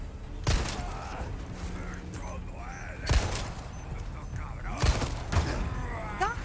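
Sharp video game gunshots crack out in a sparse, irregular run of four or five loud reports over busy game noise, with someone talking throughout.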